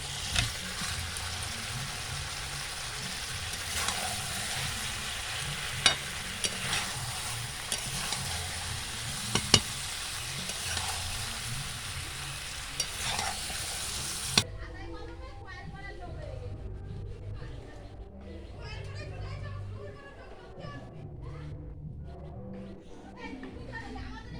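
Fried potatoes are stirred into a cauliflower chicken curry, giving a continuous pan sizzle with scattered spoon clicks; it cuts abruptly to a quieter scene with voices and children's chatter.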